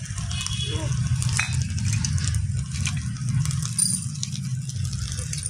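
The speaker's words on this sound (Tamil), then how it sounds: "தக்காளி போடுறோம். நான் போடுறேன், நீ வதக்கு." Tomatoes sautéed in a pan give a steady sizzling, scraping bed with small metallic clinks from utensils, a low hum beneath and no speech.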